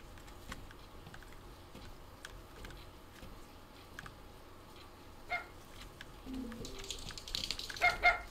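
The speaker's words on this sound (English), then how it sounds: "the way it was barking like a dog" A creature in an indie horror game barks like a dog, with rough bursts near the end of the stretch over a low, murky game ambience.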